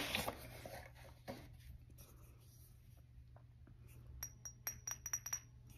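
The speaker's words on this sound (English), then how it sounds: "Glass bottle." Several quick glass clinks tap in a loose cluster near the end, following a quiet stretch with a faint scratchy rustle early on.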